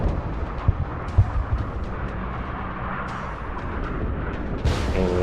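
Airstrike strafing run in the video game Broken Arrow, heard as a low rumbling roar of explosions with a few sharp thumps and a louder blast near the end, no talking.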